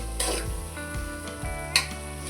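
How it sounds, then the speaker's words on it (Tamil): Small onions sautéing in an oil-filled pan for vatha kuzhambu, a steady close sizzle with a few soft stirring scrapes and one brief utensil clink, no talk. "நல்லா வதங்கட்டும் வதங்கணும்"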